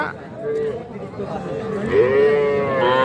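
Calves moo in a series of drawn-out calls at a cattle market in Lalmonirhat, Bangladesh, with crowd chatter and background voices throughout.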